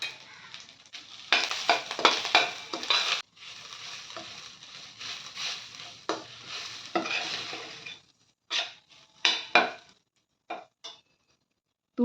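Grated fresh coconut is stirred and roasted in ghee in a pan, with bursts of scraping and soft sizzling that stop and start between pauses of near silence.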